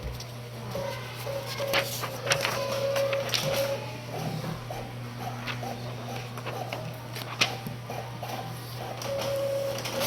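Printer printing modules, a faint repetitive mechanical whir and clicking in a quiet room, with scattered small knocks and movement around it.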